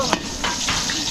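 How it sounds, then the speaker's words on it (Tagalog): Garlic and onion sauté in a pan with a steady, moderate sizzle, punctuated by a few sharp scrapes and taps of a utensil against the pan over about a second. "bawang gisa na gigisa ko muna yung bawang sibuyas"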